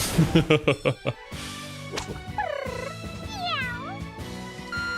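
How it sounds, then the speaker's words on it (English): A cat meows repeatedly in the video game Trails in the Sky the 3rd, several rising and falling mews in a row, heard close and clear over game music with sound effects at the start. "Did you just meow at me?"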